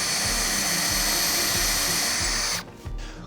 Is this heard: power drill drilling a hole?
yes